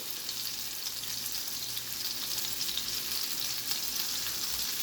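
Chicken and cheese quesadillas frying in a pan give off a steady close crackling sizzle that runs evenly throughout, with no voices over it.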